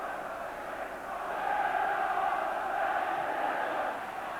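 A large football stadium crowd at a Liverpool v Arsenal League Cup match keeps up a steady loud roar after a David Rocastle goal, swelling slightly midway and holding as an unbroken wash of noise.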